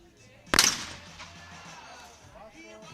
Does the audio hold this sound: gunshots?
yes